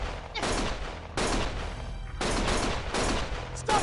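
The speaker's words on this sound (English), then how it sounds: "Stop shooting!" Bursts of rapid gunfire rip through a Lost Judgment game scene, several loud volleys of automatic shots separated by brief pauses.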